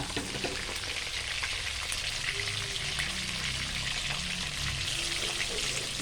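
Mackerel sizzles in hot oil in a shaken pan, a steady crackling hiss with occasional pops and faint scraping, no voices.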